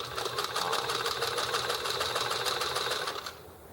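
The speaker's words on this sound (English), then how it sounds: "finishing the 2 stitches for the drawstring passage" A sewing machine runs steadily through two drawstring-channel stitching passes, a fast, even mechanical chatter held for about three seconds before cutting off abruptly, close and alone with no voices.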